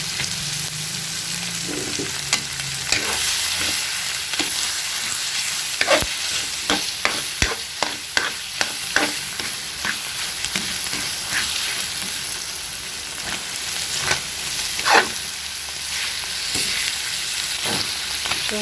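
Tomato paste sautés in a hot pan, with a steady sizzle throughout and repeated sharp scrapes and clacks of a spoon stirring against the pan, no voices present.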